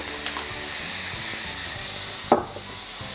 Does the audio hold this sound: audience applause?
no